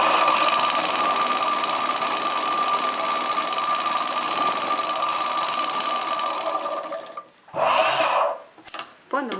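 Sewing machine running a seam on a chudidar pant, a loud continuous motor hum and rapid stitching that goes on for about seven seconds, then stops, followed by brief handling noises.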